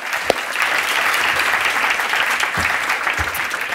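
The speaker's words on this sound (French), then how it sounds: "Vous pouvez l'applaudir chaleureusement." Audience applause at a live public event for a Mars landing broadcast, dense sustained clapping from a crowd with a few low thumps, fairly loud and without talk.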